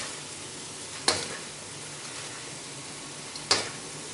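Instant noodles stir-fry quietly in a pan, giving a faint steady sizzle with two sharp clicks from tongs striking the pan.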